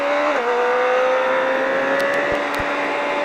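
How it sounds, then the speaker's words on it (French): A motorcycle engine rises steadily in pitch as the bike is picked up out of a turn, held near and loud with a continuous smooth drone. "Et au cône, je relève la moto et j'accélère."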